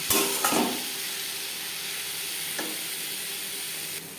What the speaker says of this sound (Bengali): আলু বেশ ভালো করে মিক্স করে দেবো আর দিয়ে দেবো মাছের তেল